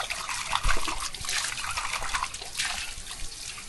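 Water running from a hose outdoors, a steady splashing trickle with irregular surges, close and moderately loud.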